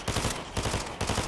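Submachine gun fire in a video game, rattling off in two or three rapid bursts at moderate loudness, with no talk over it.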